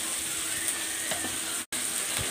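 Spices, turmeric and ground chilli, crackle and sizzle in hot oil with salt, a steady hiss with small pops and a faint stirring clink, close by and without talk.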